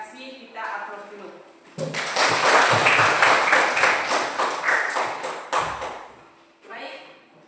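A class of students applauding together in a classroom, a burst of dense clapping lasting several seconds between stretches of a teacher's voice.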